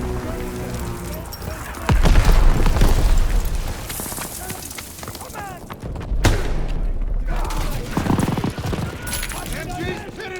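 Call of Duty WWII D-Day beach mission: dense machine-gun fire and heavy explosions roll on continuously and loudly, with booming blasts and shouted voices mixed into the battle noise.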